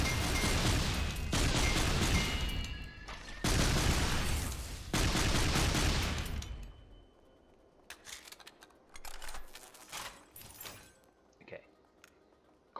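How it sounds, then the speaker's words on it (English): Coil gun firing in SYNTHETIK 2, heard as a run of loud, dense broadband bursts in quick succession over the first six seconds, then quieter scattered clicks and clatter. "Coil gun."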